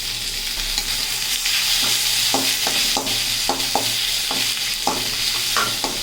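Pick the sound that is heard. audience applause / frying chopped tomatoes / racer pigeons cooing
frying chopped tomatoes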